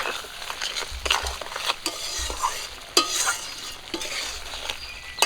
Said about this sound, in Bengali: মাছগুলো দয়া করে একটু ঘেটে নেব এরকম করে